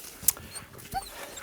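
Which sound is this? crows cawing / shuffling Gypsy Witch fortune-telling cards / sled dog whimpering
sled dog whimpering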